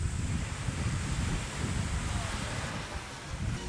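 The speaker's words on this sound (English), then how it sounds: "because it's a little bit windier. Waves are a little choppier on this side right now as well." Wind and choppy ocean surf at the beach on Disney's Castaway Cay, a steady low rumble of breaking waves mixed with gusty wind buffeting the microphone, continuous and fairly loud throughout with no talking.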